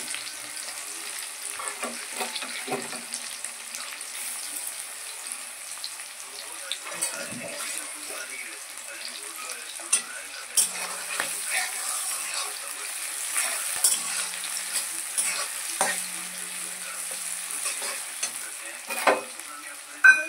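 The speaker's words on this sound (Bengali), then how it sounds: "কড়াইতে সর্ষের তেল দিয়ে দিয়েছি আর পেঁয়াজ কুচি দিয়ে" Chopped onion frying in mustard oil in a wok, a soft continuous sizzle with scattered pops and the occasional scrape of stirring, close and fairly quiet throughout.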